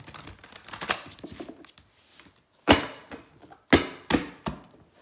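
Tarot cards being shuffled by hand: a soft flurry of riffles and taps, then a few sharp, close slaps and thuds as the deck is cut and knocked together, with quiet pauses between.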